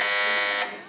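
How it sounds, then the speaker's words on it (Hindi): A quiz-show contestant's buzzer gives one loud, sustained electronic beep that cuts off and fades within a second. "बारी बारी जरा अपनी बजर चेक करवाइए।"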